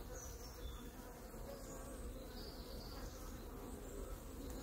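A dense, steady hum of many honeybees buzzing close by at a hive, continuous and low without pause.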